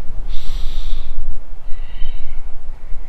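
Two forceful breaths pushed out through the nose and mouth during a power yoga pilates workout, close and loud, a longer blast followed by a shorter one with a quiet gap between them.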